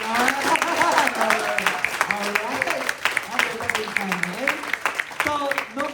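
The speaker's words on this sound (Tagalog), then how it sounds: "okay na ba yung palakpak ng level 10 na pang Oscar?" An audience at a Filipino motivational seminar claps and cheers enthusiastically, the applause rising and falling under overlapping shouts and voices.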